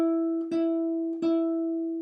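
A single guitar note fretted at the fifth position on the second string is picked twice in slow succession, each attack ringing on with a steady, sustained tone.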